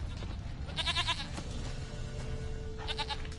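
A goat bleats twice in The Witcher video game, a wavering nasal cry early on and another near the end, heard over a low ambient rumble with no talking.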